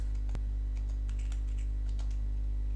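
Someone types Java code on a computer keyboard, producing scattered, light, close keystroke clicks in an irregular rhythm over a steady low electrical hum.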